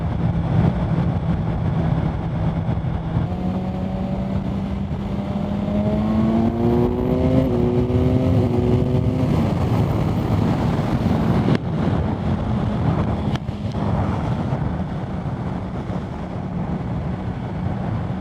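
A BMW S1000R motorcycle on the road, its engine droning steadily and rising through a couple of gears, with heavy wind rush buffeting the microphone throughout and no talking.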